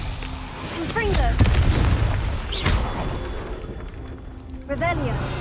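Confringo spell blasts in Hogwarts Legacy land as a few booming explosions, deep and punchy, mixed with other spell effects and game sounds, with some talk around them.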